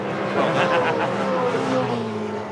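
Supercars V8 touring cars racing at Oran Park in the 2005 Supercars Championship, engines roaring steadily at high speed down the front straight, loud and continuous with a faint commentary voice underneath.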